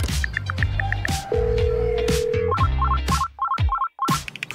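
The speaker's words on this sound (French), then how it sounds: "Pourquoi est-ce qu'il ne répond pas à son téléphone?" A telephone rings unanswered, its repeated electronic ringtone trilling in short bursts over busy cartoon-style music and effects.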